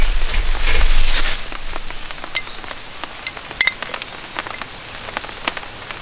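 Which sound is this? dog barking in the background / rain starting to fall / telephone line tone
rain starting to fall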